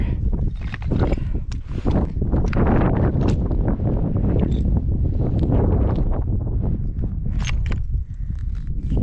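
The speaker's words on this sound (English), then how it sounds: "it's way too windy" Heavy wind on a mountain ridge near Idaho Point on the Idaho Centennial Trail roars continuously and buffets the microphone, loud and unbroken, with crunching steps faintly mixed underneath.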